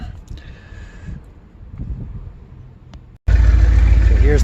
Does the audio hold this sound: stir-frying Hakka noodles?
no